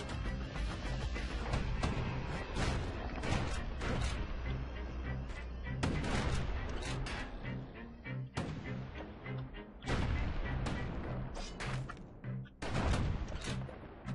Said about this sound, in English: Might as well use a hand grenade.